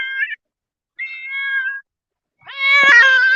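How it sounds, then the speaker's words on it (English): A cat meows three times in short, separated calls, the last one longer and more strained, loud and close with silence between the cries and no other voices. "I'm sorry I got pussy meowing in my ears."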